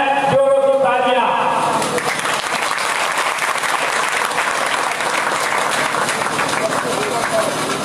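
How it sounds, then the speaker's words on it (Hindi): A dense crowd applauds loudly and steadily through the clip at a stage event, honouring a guest with a ceremonial cloth, with a brief voice at the start. "कर रहे हैं। जोरों की तालियां।"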